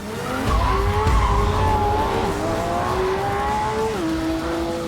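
A Porsche 911 GT3 RS driven hard, its tires squealing in long sustained skids over a loud, steady engine roar whose pitch slides down near the end.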